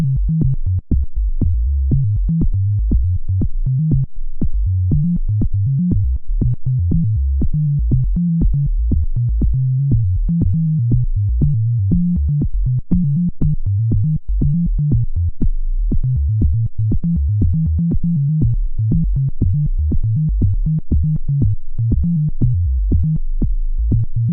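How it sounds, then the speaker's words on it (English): A live-coded SuperCollider techno dance beat, with steady, driving low-end pulses repeating at a fast even tempo throughout, loud and alone with no voices. "sort of like a techno dance beat thing"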